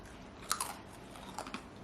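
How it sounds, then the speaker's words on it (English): A crunchy savory snack, similar to papdi, being bitten and chewed: a few quiet crisp crunches in two brief clusters over a faint background, with no talking. "crunchy, savory snack"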